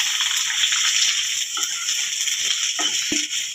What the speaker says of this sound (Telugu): ఉల్లిగడ్డ వస్తున్నా నూనెలో.